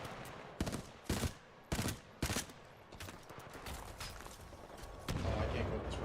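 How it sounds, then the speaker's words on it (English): Burst-fire gunshots in the Titanfall 2 campaign, four sharp evenly spaced bursts about half a second apart over background game noise, followed by a longer heavier blast. "Oh, burst fire?"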